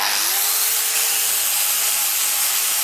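Fiberglass is ground off a bulb made from a toilet float, a loud continuous hissing grind with a faint rising tone at the start, steady throughout and without talk.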